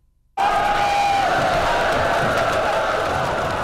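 A massed shout of soldiers raising a war cry at an ancient Korean fortress, bursting in abruptly and holding as a loud, sustained roar with one voice rising above the crowd.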